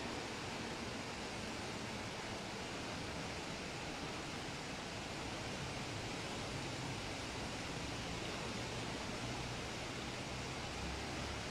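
A river in Palenque, Chiapas, running swollen after heavy rain, its steady, dense roar of rushing water filling the whole span with no voices over it.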